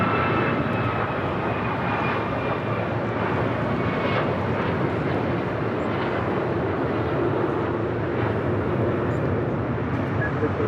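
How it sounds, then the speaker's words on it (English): A United Airlines Boeing 737 MAX 9 airliner flies past as a steady, loud broadband jet roar that holds throughout at an airport, with voices talking over it. "That was the United Airlines flight 1527 heading to Cleveland, Ohio. That 737 MAX 9"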